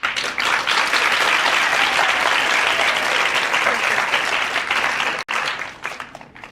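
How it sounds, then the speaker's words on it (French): An audience applauds at the end of a ballet performance, a loud, dense and continuous wash of clapping from many hands that holds steady, briefly cuts out near the end, then resumes. "À la fin de la danse, tout le monde applaudit."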